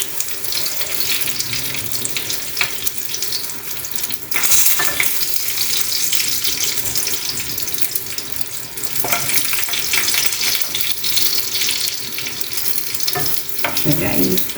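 Eggplant fries in hot oil, a loud dense crackling sizzle that runs throughout with occasional sharper pops and surges, no voices over it.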